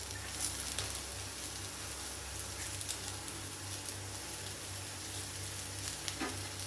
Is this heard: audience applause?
no